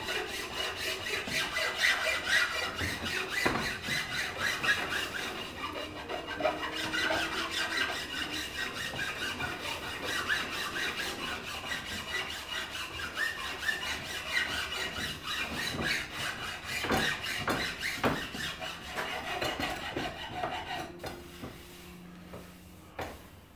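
A half-round file rasps back and forth over a wooden axe handle, shaping its curves in repeated rough scraping strokes, close and fairly steady with brief pauses and a few knocks of the workpiece.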